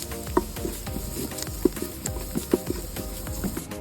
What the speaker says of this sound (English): And 2 tablespoons of curry powder. We saute for a few minutes.